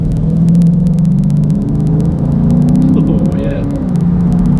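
A 2016 Dodge Charger Scat Pack engine pulls under acceleration, a loud steady drone whose tone climbs and shifts from inside the cabin, with a brief spoken exclamation partway through.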